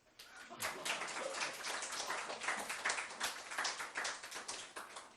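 Church congregation clapping together after a gospel meeting sermon, a dense, steady wave of many hands that starts abruptly and holds at an even level without talk.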